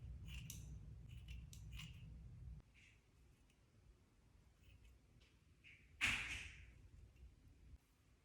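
Scissors snip through long blonde hair in a few quiet, close cuts, with a louder single snip and brush of sound near the end, in an otherwise hushed room.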